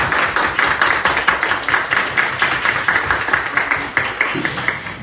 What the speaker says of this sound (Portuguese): Vamos receber com a salva de palmas.